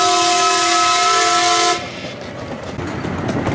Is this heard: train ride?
yes